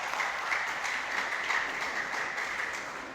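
Church congregation applauding for the Lord during a worship gathering, a continuous crowd of clapping hands at moderate level that gradually fades near the end, with no talk over it.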